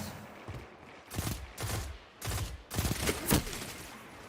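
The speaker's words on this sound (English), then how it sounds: "That was a pretty good grenade" Video game combat with a grenade blast followed by several bursts of rapid gunfire, loud broadband bangs clustered in quick volleys over a low rumbling background, no talking.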